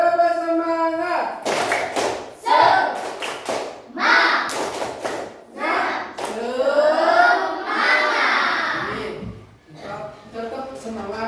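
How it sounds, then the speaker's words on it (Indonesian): A class group claps a rhythmic chant in an Indonesian Hindu religion lesson, with sharp, uneven claps spread through the clip and voices chanting and speaking over them. "Kita ulang. Tepuk semangat."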